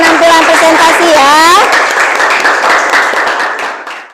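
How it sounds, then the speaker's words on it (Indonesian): Applause after a classroom group presentation, clapping heard under and after a loud voice talking over the start, continuing as a steady patter before tapering off. "Kita berikan tepuk tangan sekali lagi untuk penampilan presentasi ya."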